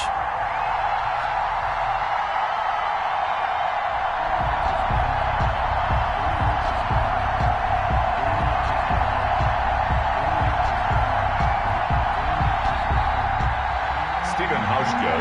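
A stadium crowd roars steadily in an EA Sports football video game before a New York Jets versus Indianapolis Colts kickoff, a dense continuous cheer under a commentator talking throughout.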